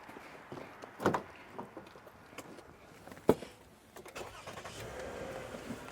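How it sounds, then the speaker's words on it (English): A Toyota Sienna with an air conditioning fault starts up: a few clunks and a brief starter burst, then the engine catches with a sharp spike and settles into a quiet, steady idle close by. "Now let's start the engine"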